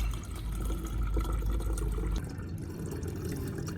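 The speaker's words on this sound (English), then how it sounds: "I strain out the solids, keeping only the clear, nutrient-rich liquid" Onion skin and turmeric liquid being strained, with water pouring in a steady, close splashing stream that eases off partway through into a lighter trickle.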